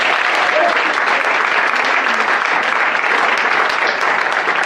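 Audience at a Cologne carnival session applauding, a dense, steady burst of many hands clapping, loud and sustained throughout.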